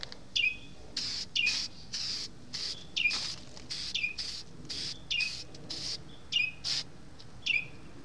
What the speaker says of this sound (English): I'm a little bit too close to a bird's nest. He doesn't like me here